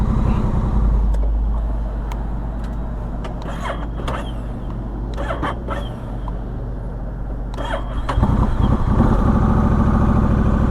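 A 2021 Honda Rebel 1100 DCT motorcycle struggling to start, steady engine drone with intermittent mechanical clicks and whirs, swelling louder near the end.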